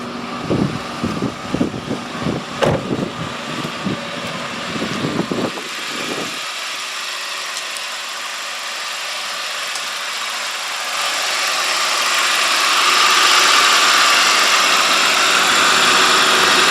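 A Hyundai Genesis 2.0T R-Spec engine idles steadily, with some rattly knocking early on, then settles into a smooth, continuous hum that grows slightly louder near the end.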